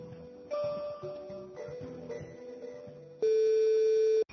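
Telephone call tones sound before a call connects: a run of shifting electronic dial tones, then a loud, steady, sustained tone near the end, clear and alone with no talking.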